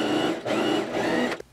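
A sewing machine runs in a few short bursts while stitching a summer dress neckline, its motor whirring close and loud before stopping abruptly.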